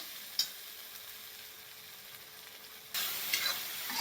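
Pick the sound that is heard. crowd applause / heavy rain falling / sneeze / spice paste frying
spice paste frying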